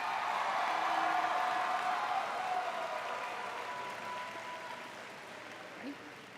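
Applause for graduates at a high school graduation ceremony, a broad sustained clapping from a large audience that swells early and then slowly fades, with a faint voice briefly heard near the end.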